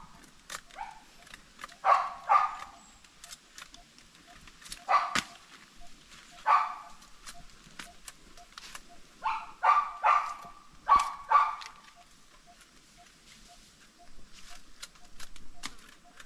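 Several dogs bark in bursts at a monitor lizard, sharp overlapping barks coming in clusters over about sixteen seconds, moderately near, with quieter gaps between flurries.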